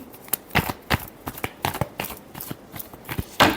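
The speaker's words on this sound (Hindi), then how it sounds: "Last shuffle." A deck of tarot cards is shuffled in a series of quick, crisp riffling bursts, close up and fairly quiet, with short pauses between them.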